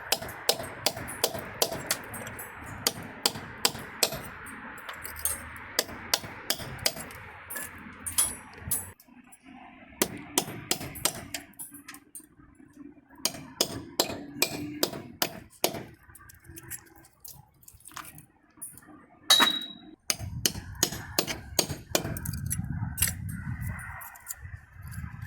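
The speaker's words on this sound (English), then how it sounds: "Cut the joints. And you chisel it out." A chisel chips old mortar out of the joints of a brick chimney during a rebuild, giving sharp, repeated metallic taps and scraping hits at close range. The strikes come in bursts with short pauses between them and are heard alone.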